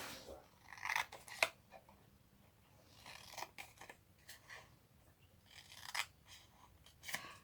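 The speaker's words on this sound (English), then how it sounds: "Then cut up these vertical lines to that horizontal 1 inch score line." Scissors snip through gingerbread and peppermint patterned paper for a small gift bag, with several crisp, close cuts spaced out over quiet handling rustles.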